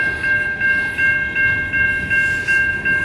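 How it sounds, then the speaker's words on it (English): A BNSF coal train standing on the track at Effingham, with a steady rumble and a sustained high tonal whine under rhythmic swells of machinery noise, loud and close. "the train is still on the track"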